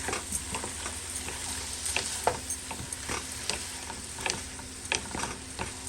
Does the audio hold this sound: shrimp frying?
yes